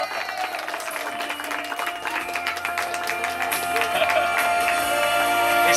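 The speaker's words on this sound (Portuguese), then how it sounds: "Uma salva de palmas," Crowd applause and cheering at a surprise birthday celebration, steady dense clapping that builds louder toward the end, with shouts mixed in and no clear speech.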